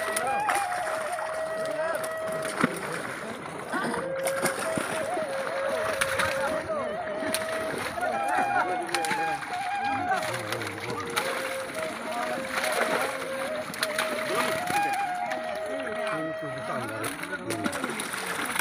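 A small boat moves across the big pond of Lakhimpur, its water splashing and sloshing continuously at close range while people talk over it throughout.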